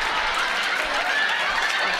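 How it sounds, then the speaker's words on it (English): An audience claps and laughs during a comedy performance, a brief, fairly even wash of applause with a few chuckles in the mix. "Don't applaud for that"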